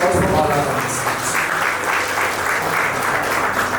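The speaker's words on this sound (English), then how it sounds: "A huge round of applause for all our participants." A crowd at a literary festival in Hyderabad applauds steadily and fairly loudly, dense clapping filling the whole stretch without pause.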